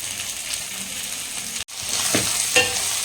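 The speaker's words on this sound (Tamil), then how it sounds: "நல்லா எண்ணெய் கத்திரிக்காய் வதங்கிட்டு இருக்குதுங்க." Eggplant sautés in hot oil with a constant crackling sizzle and occasional stirring scrapes, close and fairly loud, with a split-second dropout near the middle; no voices.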